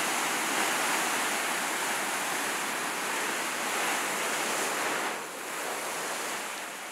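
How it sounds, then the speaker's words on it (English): Ocean waves break steadily on Kamala Beach in Phuket, a continuous full roar of surf with gentle swells and a brief dip near the end, with no voices over it. "I'm now at Kamala Beach, a wonderful beach here in Phuket."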